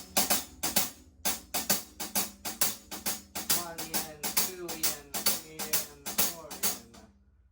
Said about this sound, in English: use swing, the same exact 16th notes will sound like this.